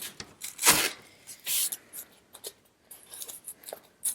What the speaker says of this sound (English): now I can cut things away